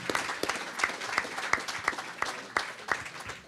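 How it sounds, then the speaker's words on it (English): Applause from fans at a Rochdale AFC fans forum welcoming new manager Robbie Stockdale, a modest indoor group clapping with a loose, pulsing rhythm of distinct claps, fairly close and alone without speech. "can we have a massive round of applause, please, for our new manager ahead of an exciting new season"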